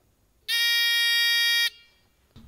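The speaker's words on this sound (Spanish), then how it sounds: "y este pequeño zumbador" A single small electric buzzer on a homemade electrical skill game sounds for about a second, a harsh steady tone that starts and stops abruptly in a quiet room.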